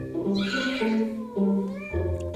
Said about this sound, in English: Cause it's a cat.